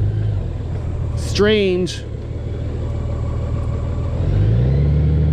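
A Honda Goldwing motorcycle engine hums low and steady while riding, a brief spoken word passing over it midway before the engine note swells slightly near the end.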